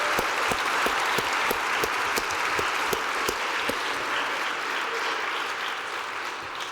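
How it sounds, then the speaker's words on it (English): An audience at a procurement keynote event gives a steady round of applause, with a few louder, sharper individual claps standing out near the front before it eases slightly. "So please give them a round of applause."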